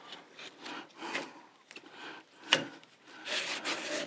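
Rubbing strokes on unsanded wood as red dye is worked in, a series of dry scrubbing swishes of varying length with a sharper scrape near the middle and denser rubbing toward the end.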